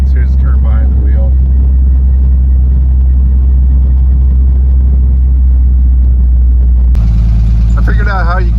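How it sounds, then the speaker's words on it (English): The rear-mounted Corvair engine of a barn-find belly tanker jet mobile rumbles steadily and loudly up close, a deep continuous drone with brief speech over it at the start and near the end. "that little rumble that Corvair motor makes back behind you, it's really good"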